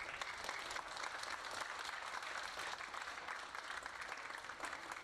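An audience at a high school spring art show claps steadily for the teachers throughout, dense and sustained applause with no pauses and no voices standing out.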